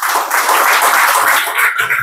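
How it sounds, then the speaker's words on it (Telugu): Loud, dense applause from an audience at a church youth meeting, a steady wash of many hands clapping for about two seconds with no voices over it. "గట్టిగా చప్పట్లు కొట్టండి."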